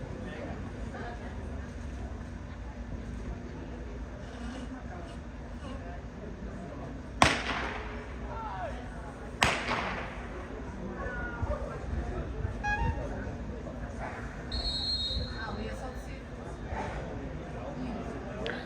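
Two sharp gunshot cracks several seconds apart ring out during a dog sport flee exercise at a Mondioring World Championship, over a noisy outdoor background, with voices and other faint sounds around them.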